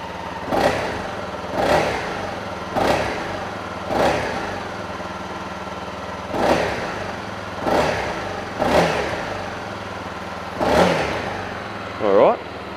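Honda CRF250L motorcycle with its stock exhaust, revved close by in about eight short throttle blips with brief idle gaps between them.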